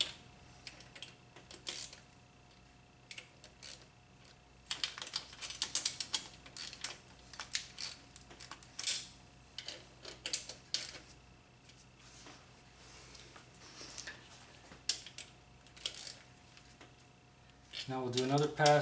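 A hand ratchet snugging the starter bolts on a Honda Accord 2.4L: repeated close bursts of quick metallic clicking with short pauses between strokes, fairly quiet.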